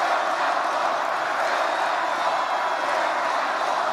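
Dense rally crowd roaring steadily for several seconds at a political event about a border wall, a continuous wash of cheering and clapping with no breaks or lulls.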